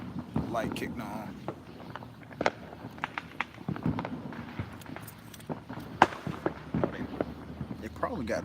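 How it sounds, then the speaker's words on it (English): Distant Fourth of July fireworks pop in scattered sharp bursts across a busy outdoor scene, mixed with wind buffeting and people talking nearby. "They probably got those fireworks at Fort Knox. I think that's where it's coming from."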